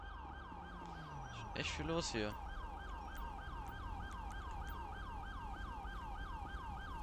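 A police car siren wails in a video game, sweeping up and down in a fast, steady cycle at medium distance. A voice briefly speaks over it partway through.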